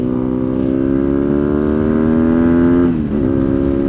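A BMW R nineT boxer-twin motorcycle engine with 1,300 miles on it runs at a loud, steady rev, then its pitch dips briefly near the end before settling again.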